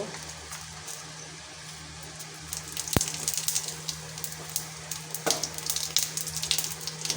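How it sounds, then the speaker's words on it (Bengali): Cumin seeds drop into hot oil left from frying fish. A sharp click comes first, then a lively crackling sizzle that swells and stays busy, close and fairly loud. "এই তেলেই আমি জিরে ফোড়ন দিয়ে দেব"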